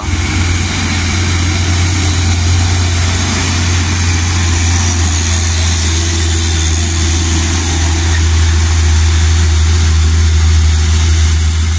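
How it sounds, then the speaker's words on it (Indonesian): Mitsubishi Canter and Hino 500 trucks run close by after heavy rain, giving a loud, steady, low engine drone that holds throughout with no voices. "kemudian ada Mitsubishi Canter neng Riri selanjutnya Hino 500 Armada Mikael"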